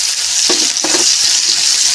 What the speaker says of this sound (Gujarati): હવે આપણે આ કાંદા ઝીણા સમારેલા છે એને સાંતળીશું.